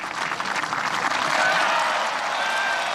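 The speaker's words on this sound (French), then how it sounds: "Ils applaudissent. L'accord vient d'être signé." Applause fills the room at the White House signing of the Oslo Accords, a sustained, even crowd clapping heard as an archival recording with a slight hiss.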